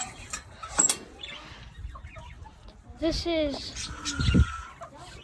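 Farm chickens cluck and squawk in short bursts at close range, mixed with a person talking nearby.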